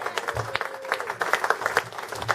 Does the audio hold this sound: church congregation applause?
yes